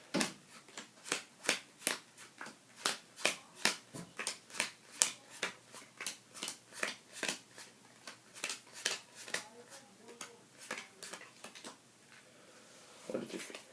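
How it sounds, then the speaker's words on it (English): Playing cards are shuffled over and over in quick, crisp rhythmic bursts, close and fairly quiet, with a brief pause near the end. "I'm just going to shuffle the cards"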